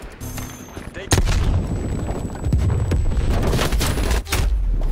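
Rapid gunfire and booming blasts in the video game Call of Duty: Black Ops Cold War during a multiplayer beta match, loud and dense throughout with a few short pauses, under bursts of talk.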